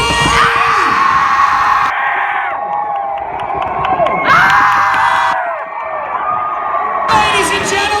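A loud crowd screams and cheers in sustained waves, surging, dipping briefly, then swelling again, with high shrieks and whoops throughout.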